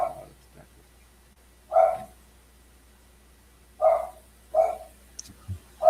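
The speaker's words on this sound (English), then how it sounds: "And you've got a dog barking in the background." A dog barks in the background of a casual online roundtable chat, giving a few separate, moderately loud woofs spaced a second or two apart, with faint voices and small noises between them.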